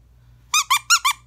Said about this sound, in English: But this guy squeaks too.